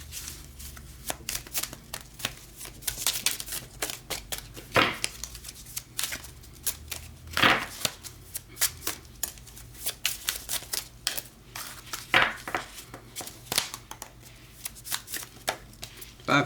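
Playing cards are dealt one after another onto a table, giving soft, quick flicks and slaps in an irregular rhythm, close and fairly quiet, with occasional faint speech.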